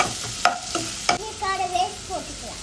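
Onions are stirred and roasted in a pan, with a spoon scraping and clanking a few times in sharp, close strokes over a light sizzle, and no one speaking.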